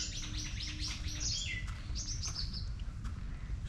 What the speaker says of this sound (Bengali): শালিক, টুনটুনি থেকে শুরু করে অনেক রকম পাখির শব্দ শোনা যাচ্ছে।